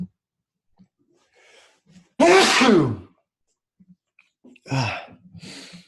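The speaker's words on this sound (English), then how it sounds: "I have to sneeze" One loud, close human sneeze bursting out after a quiet intake of breath, followed a couple of seconds later by a softer breathy exhale or second sneeze in an otherwise quiet room.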